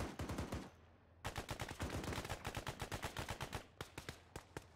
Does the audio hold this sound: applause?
no